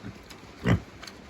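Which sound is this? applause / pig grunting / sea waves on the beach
pig grunting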